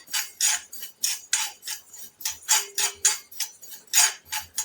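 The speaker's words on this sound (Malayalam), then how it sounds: "ഇതിലേക്ക് എണ്ണയൊന്നും ഒഴിക്കാതെ തന്നെ ഇത് നല്ല രീതിയിലൊന്ന് വറുത്തെടുക്കണം" Black cumin seeds are dry-roasted in a pan without oil, heard as a steady rhythmic series of close, crisp scraping strokes, roughly three per second, with faint metallic ticks.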